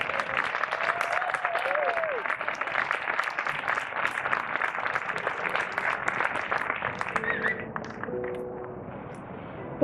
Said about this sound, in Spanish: Por favor, un aplauso para él.